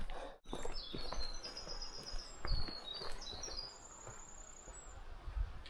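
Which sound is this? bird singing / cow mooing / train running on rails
bird singing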